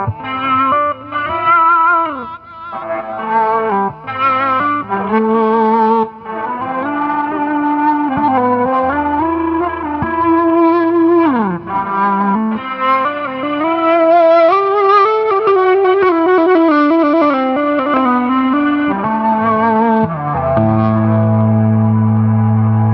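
Electric guitar played through a Gizmotron bowing device with light overdrive, sustained bowed notes swelling and gliding with echo and chorus-like effects, loud and close, no talking.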